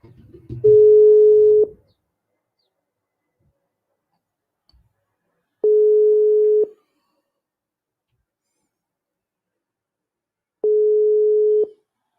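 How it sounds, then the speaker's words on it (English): Three separate beeps of a telephone ringback tone, each about a second long and spaced several seconds apart, sound clear and alone on a phone line while a call is being placed, with a brief burst of noise at the start. "I'm trying to reach Moses via phone"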